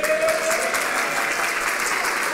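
An audience applauds in a dense, steady wash of clapping that fills the whole stretch, loud and close, with no voices rising above it.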